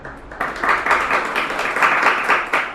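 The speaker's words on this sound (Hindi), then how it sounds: "तालियों से इनका उत्साहवर्धन करते रहें" An audience at a school results ceremony in Mandawar gives sustained, lively clapping for a student topper, fairly close and dense throughout with a few louder surges.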